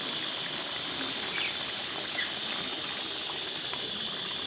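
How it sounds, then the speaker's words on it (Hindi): Water poured into a pot of fish curry with potatoes, a steady soft gushing splash lasting several seconds, fairly quiet and alone without voices. "1 कप डाल लेती हूँ पानी।"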